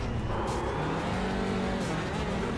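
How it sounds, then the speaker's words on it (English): Race car engine held at full throttle in a touring car racing video game at Indy Road, a steady, loud, continuous drone with a droning harmonic whine, close and alone without talk. "he's giving it a boot full of throttle just because he can see that pack of cars coming up behind him"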